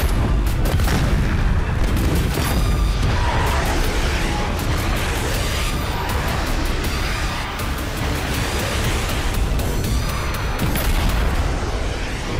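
A T-90 Bhishma Mk-III main battle tank fires, producing loud, heavy booming blasts and a sustained rumbling roar that fill the whole twelve seconds.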